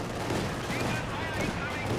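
Gunfire from a 2-2 unit in Company of Heroes 2 rattles in a dense, loud, continuous burst of rapid shots with battle noise mixed in.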